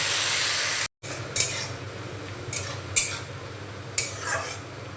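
Softened onions fry in a pan with a low sizzle while a utensil stirs and scrapes, giving about four distinct metallic strokes roughly a second apart, close and clear.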